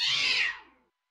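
A single cat meow, clear and fairly close, rising then trailing off within about a second, heard alone without any talk.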